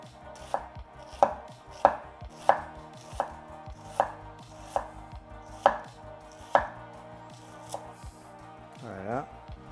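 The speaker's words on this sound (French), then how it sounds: "Et après, vous venez le couper en petits cubes." A knife chopping an onion into small cubes on a cutting board, a run of crisp, close, evenly spaced chops, about a dozen in under ten seconds.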